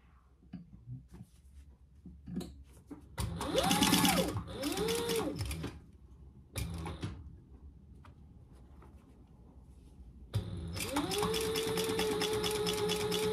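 A sewing machine stitches a seam on a fabric wristlet in several bursts of rapid mechanical clatter, separated by quiet pauses with small handling noises, with a longer steady run at the end.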